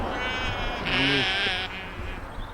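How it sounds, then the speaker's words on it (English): A sheep in a field gives one short bleat at moderate distance over a steady wind and insect-like hiss of outdoor noise. "just ignore the sheep"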